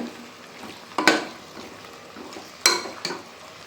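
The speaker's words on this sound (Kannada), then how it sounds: "ಒಂದು ಸತಿ ಚೆನ್ನಾಗಿ ಮಿಕ್ಸ್ ಮಾಡ್ತಾಯಿದ್ದೀನಿ" Mutton sizzles steadily in a hot pan while a spoon scrapes and clanks against the metal a few times.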